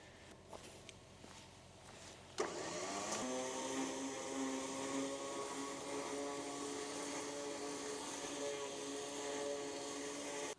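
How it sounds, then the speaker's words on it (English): Electric winch whirring as it pulls a load at a 1980s house, starting abruptly after faint knocks and running steadily with a high, strained motor whine that climbs slightly in pitch, no talk. "This is hands down the most winching we've ever done."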